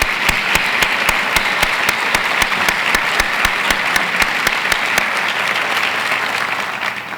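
A large audience at a university's annual address applauds students and award winners, steady full clapping that holds evenly throughout before easing slightly at the close.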